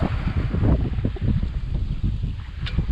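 Sailboat running downwind under a working jib at sea at about 3.5 knots, steady rushing water and wind buffeting the microphone, loud and continuous with no talk.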